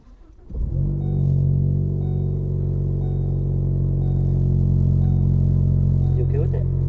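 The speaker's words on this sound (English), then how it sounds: "So this is the first startup." Ford Focus ST engine cranking and catching after a short quiet moment, then settling into a loud, steady idle rumble that continues to the end.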